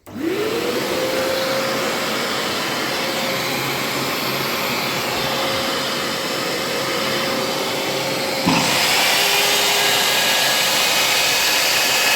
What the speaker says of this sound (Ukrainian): включаємо пилосос